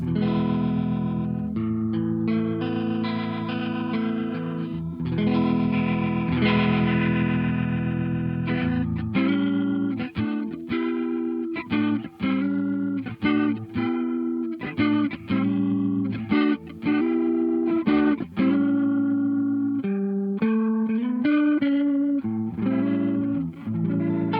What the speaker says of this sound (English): It's like a Leslie sound. Yeah, it's a Leslie.